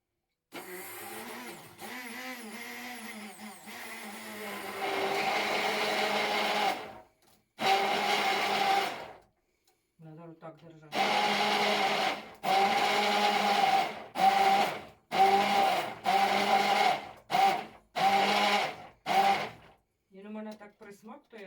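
Blender whirring through a batch of homemade nutella in a home kitchen, running in repeated loud bursts with short pauses between them, someone talking over the early part.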